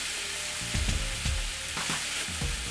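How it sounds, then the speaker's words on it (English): Food sautéing in a pan for homemade bagels: a steady, close sizzle and fry with several soft scraping stirs cutting in at intervals, no talking. "just saute it until it's really died down"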